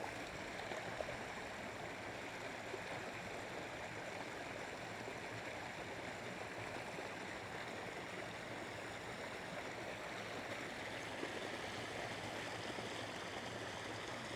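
A mountain stream on the Sgor Gaoith hill walk flows with a steady, faint, continuous rush of water, unbroken and without voices.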